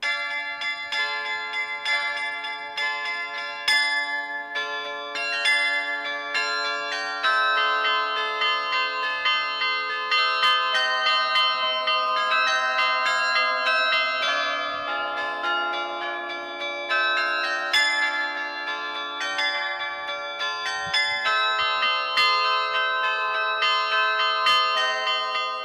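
A carillonneur plays a tower carillon, its bronze bells ringing out in a steady melodic stream of overlapping struck tones with long resonant decays, loud and continuous with no talking.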